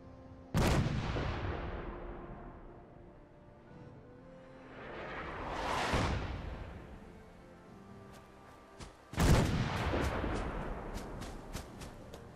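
Heavy artillery fire in the game Fallout 4: three big booming blasts spaced several seconds apart, each with a long rumbling tail, the last one loud with smaller crackling impacts trailing after it.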